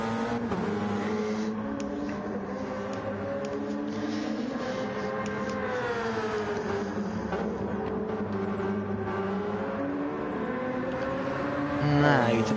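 A race car engine in a Le Mans endurance racing video game drones steadily down the pit lane. The hum stays even and sustained at a moderate level and swells briefly at the end.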